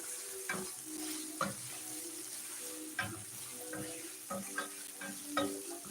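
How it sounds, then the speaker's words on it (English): Beef for a stew sizzles steadily as it is stir-fried in a pan. Recurring scrapes and clatters of stirring sound close up over the continuous frying hiss, with no talking. "Continue stir frying."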